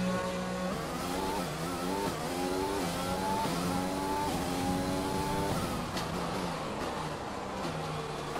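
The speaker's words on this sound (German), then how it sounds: "Das erste Auto schon raus, das ist ein Racing Point." A Formula 1 car in the F1 2020 video game drives on the Australian track during qualifying, its engine screaming and climbing through repeated upshifts, loud and close with no talking.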